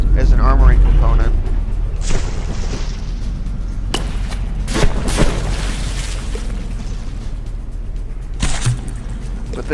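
Cram Duo cannon shells slam into a heavily alloy-armoured battleship in the naval game From The Depths, giving repeated booming impacts and bursts spread irregularly over a rumbling battle din.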